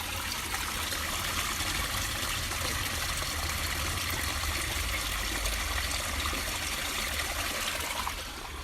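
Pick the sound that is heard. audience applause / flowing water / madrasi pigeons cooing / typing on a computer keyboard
flowing water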